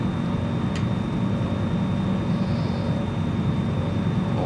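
Steady, unbroken engine drone from a Britten-Norman Islander in Microsoft Flight Simulator multiplayer bush flying, loud and constant throughout with no talking.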